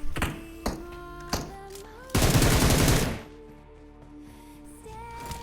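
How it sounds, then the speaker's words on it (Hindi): Gunfire from a bot in the PUBG video game on the old Erangel map: a few isolated sharp shots with ringing tails, then a dense automatic burst lasting about a second, all close and loud, with no voices. "और एक बॉट ने मुझ पे फायर किया"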